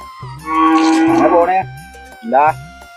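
A cow lets out a long, loud, close moo, followed after a pause by a shorter second moo, with a low rhythmic thumping underneath.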